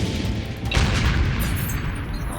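Booming blast of an armor-piercing tank shell exploding on impact in a Battle of Kursk setting, with a sharp loud hit followed by a rumbling roar.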